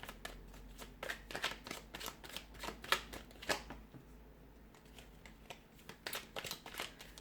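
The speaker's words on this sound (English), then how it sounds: "we'll give the cards a shuffle" Tarot cards riffle and slap together in quick, crisp bursts, close and fairly quiet, with short pauses between shuffles.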